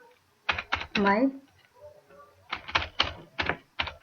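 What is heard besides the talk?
typing on a computer keyboard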